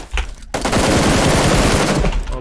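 Rapid automatic gunfire in PUBG Lite rattles out in one sustained, loud, close burst lasting nearly two seconds, preceded by a few isolated shots.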